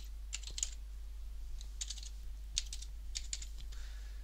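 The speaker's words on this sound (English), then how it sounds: "now I need to put my password in" Fingers type a password on a computer keyboard in quick, light clusters of clicks over a steady low hum, close and alone with no talk.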